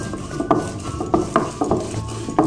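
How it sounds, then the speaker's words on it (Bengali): Dried fish is ground on a shil-pata stone for bean and dry fish vorta, making close, rhythmic grinding scrapes and knocks that repeat roughly every half second. "প্রথমে এই সুটকিগুলোকে বেটে নেবে শুটকিগুলো দেওয়া হয়ে গেল শিল্পাটার মধ্যে এভাবে সবগুলো বেটে নেবে"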